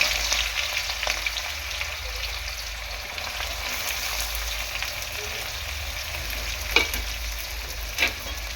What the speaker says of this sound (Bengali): পেঁয়াজটাকে ভালো করে আমি ফ্রাই করে নেবো